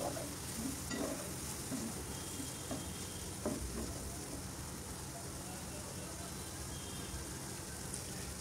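Cumin powder and masala frying in oil in a pan for a prawn and vegetable dish, giving a steady soft sizzle with occasional stirring scrapes throughout, close and even.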